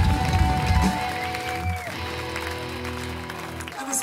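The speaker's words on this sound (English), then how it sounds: "Please give a big giant round of applause for all the bands who played on the show tonight." Concert audience applauding the bands after the show, a dense wash of clapping and crowd noise with sustained music tones and feedback ringing over it, steady and loud throughout.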